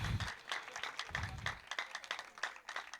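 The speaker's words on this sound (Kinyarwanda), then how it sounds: "Mumukomera amashyi" A church congregation applauding, a patter of many hands clapping at moderate distance, fairly faint, with a few voices underneath.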